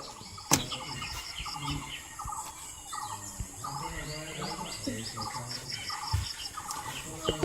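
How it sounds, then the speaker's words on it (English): Many birds call and chirp across Buxa Forest, including peacocks, with repeated screechy cries and a sharp crack or two amid steady insect buzz. "You can also hear the screeches of many other birds and animals"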